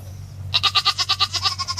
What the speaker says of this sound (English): The goats are going to let you know it.